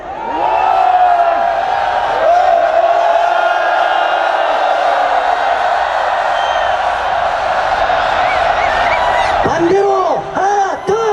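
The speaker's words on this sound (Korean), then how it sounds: "함성 소리와 함께 하겠습니다" A large crowd shouts together during a wave at a nighttime candlelight rally in Seoul Plaza outside City Hall, a loud sustained roar lasting about nine seconds before dropping off into scattered calls.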